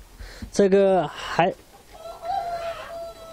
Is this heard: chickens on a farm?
yes